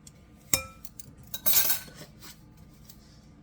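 A metal teaspoon clinks against a bowl while salt is measured into whole-wheat French bread dough, with two or three short, sharp clinks and a brief rattle in an otherwise quiet kitchen.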